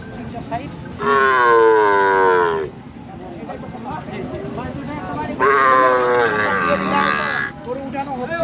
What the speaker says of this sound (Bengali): গরু উঠানো হচ্ছে